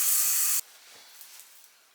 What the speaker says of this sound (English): It is time for me to wash this off my face.